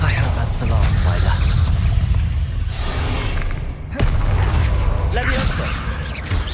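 Booming thuds and dense rumbling impacts from a Bombarda explosion spell in a Harry Potter video game, one sharp crack midway, continuous loud low-end blasts with some game sounds layered in.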